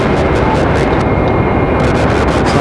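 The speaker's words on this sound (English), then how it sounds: "JetBlue already ready for departure." A JetBlue airliner at Raleigh-Durham International Airport gives a loud, steady roar of jet engines, close and unbroken, with a higher whine riding on top.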